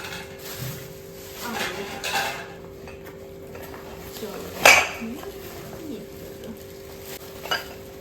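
A gifted round bowl and its lid are handled, giving one sharp close clink and a few faint knocks, with someone talking and distant bird cooing in the background.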